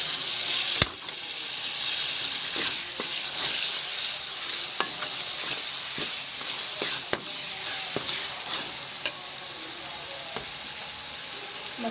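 Spices and chopped tomato fry in a kadai for a Punjabi aloo anday curry, giving a steady, close sizzle throughout with occasional sharp scrapes and stirring clicks from a spoon.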